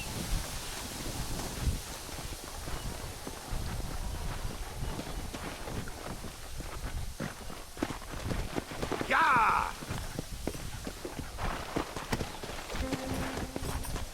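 Horse hooves clip-clop in Red Dead Redemption, steady and moderately loud across the whole stretch under a low windy rumble, with speech present.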